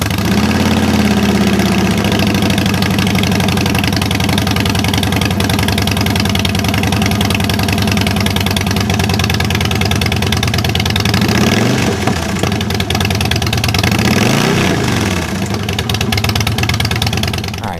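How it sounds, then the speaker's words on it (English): Harley-Davidson Street Bob exhaust idling close up, a loud, steady, throbbing rumble with a couple of small throttle blips near the end, no talking. "it wouldn't be a walk around video unless you could hear the pipes"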